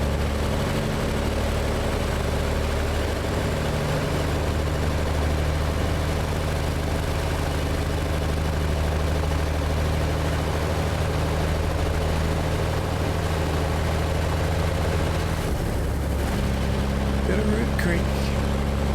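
American Truck Simulator truck engine on a grain haul, a loud steady low diesel drone with a brief shift in pitch near the end as the revs change, under someone talking.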